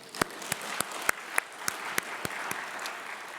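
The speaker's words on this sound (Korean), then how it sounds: "박수 한번 합시다" Sparse, evenly spaced claps ring out at a Korean church Sunday worship service, about a dozen sharp hand strikes in a steady rhythm over a soft hum of room noise, with no voices.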